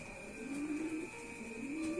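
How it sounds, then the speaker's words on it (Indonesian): Pigeons coo softly while feeding their squabs, a few low rolling coos close by with a faint steady hum in the background. "Ada 3 pasang merpati yang lagi ngeloloh ya."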